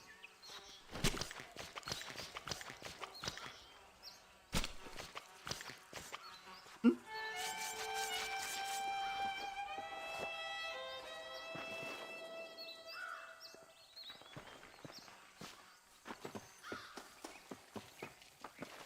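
Horse hooves clop along in Red Dead Redemption, a run of soft, uneven steps mixed with game ambience and a sustained tonal passage midway, moderately close.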